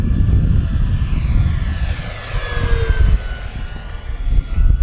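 FMS V8 P-51 Mustang RedTail electric RC model plane flying past in wind, a loud whining motor and propeller drone with a rising and falling doppler pitch sweep as it passes close overhead, no talk.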